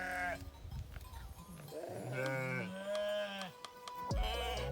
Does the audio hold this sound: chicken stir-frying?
no